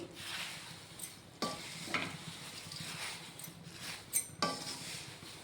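Poha fries in hot oil for chivda, a soft continuous sizzle with several scattered stirring scrapes and light clinks, fairly quiet and close.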